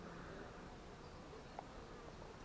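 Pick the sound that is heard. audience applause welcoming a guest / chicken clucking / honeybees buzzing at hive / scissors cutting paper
honeybees buzzing at hive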